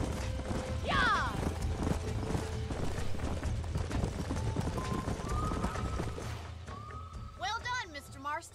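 Horses clip-clopping along in the Red Dead Redemption game, a steady near hoofbeat rhythm over a low rumbling ambience, with a brief whinny and voices speaking over it.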